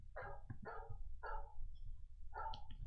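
Dog barks coming from an iPad Mini on a repair bench: four quick, fairly faint barks in a short irregular burst, with no voices.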